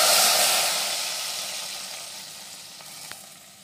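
Hot tadka poured into cooked mixed moong and masoor dal gives a loud, broad sizzle that hisses strongly at first and then slowly fades, with no talking.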